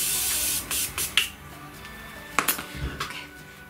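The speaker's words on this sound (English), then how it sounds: "I'm about to spray it with the Morphe setting spray" Morphe setting spray misted from close range during an eye makeup routine, heard as several short, crisp hissing bursts separated by brief pauses, with small handling clicks.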